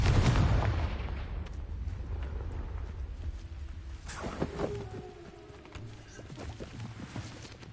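Blasting-spell explosion in the fantasy game Hogwarts Legacy: a heavy burst opens loudly, then crackling bangs and rumbling debris decay over several seconds, with smaller pops scattered through the tail.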